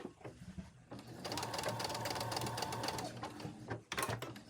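A sewing machine stitches fabric in a steady, fast whirring run lasting a few seconds, briefly backing up to lock the stitches, close and clear with quiet handling noise before and after.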